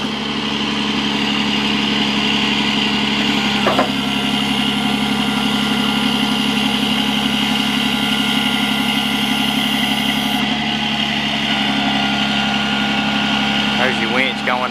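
Hydraulic winch lowering on a 2008 Freightliner Business Class M2 106 service truck, heard as a steady whine over the truck's continuous idling engine drone, with a couple of brief clunks partway through.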